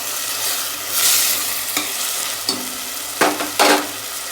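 Tomato frying in oil in a pan for mushroom biryani, with a steady sizzle and several sharp scraping stirs of a spoon against the pan, close and clear, no talking.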